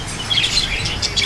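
Cockatiel parrots in a breeding pair setup calling, with several short, bright chirps and whistles repeating close by over a steady background.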